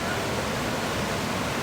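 Rushing river water at Khlong Phlu waterfall on Koh Chang, Thailand, pours in a steady, loud, close broadband roar with no break and no voices.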